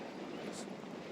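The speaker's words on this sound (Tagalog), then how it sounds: "Humihipang hangin, sobrang lakas." Strong wind roars in a continuous, broad rush, buffeting steadily with no pauses and no other clear sounds.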